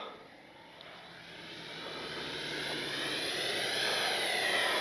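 An RC L-39 jet model in Baltic Bees livery runs its engine at full throttle on a speed run, a distant turbine whoosh that swells steadily louder as the plane draws closer.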